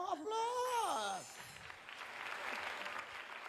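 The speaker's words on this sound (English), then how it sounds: "Wow, applause!" A voice speaks briefly, then scattered, fairly faint applause from a small group claps for a couple of seconds.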